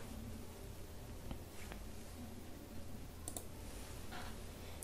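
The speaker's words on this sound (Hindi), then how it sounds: "मैं इसे राइट क्लिक करके इसे ओपन कर लेता हूँ" Faint computer mouse clicks sound close up against a quiet room hiss as a right click opens a file, with a couple of isolated clicks.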